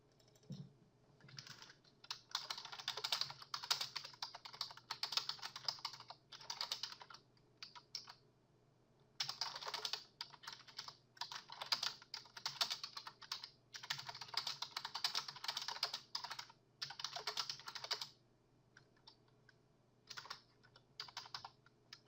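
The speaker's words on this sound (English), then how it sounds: "we'll just type it into there" Bursts of computer keyboard typing come in quick clustered runs with short pauses between them, close and clear over a quiet room hum, while text is entered into a WordPress editor.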